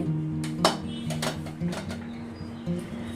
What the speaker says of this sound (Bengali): 5 মিনিট পর আমি ঢাকনাটা সরিয়ে নিচ্ছি